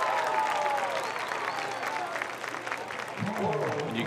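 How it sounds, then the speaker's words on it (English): Distant spectator applause at a track meet during the boys' pole vault, a steady spread of clapping with a voice talking over it. "you can hear the applause in the background"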